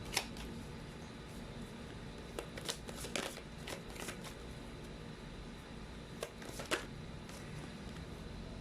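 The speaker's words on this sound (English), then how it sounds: "You saw me shuffle as always." Playing cards being shuffled close by, a soft continuous riffling texture punctuated by sharp snapping bursts, with no voices.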